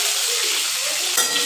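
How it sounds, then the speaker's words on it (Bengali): Pointed gourd is stirred as it fries in oil in a wok, with a steady hiss of sizzling and a short scrape or clatter near the end, heard alone. "একটু নেড়ে দেবো"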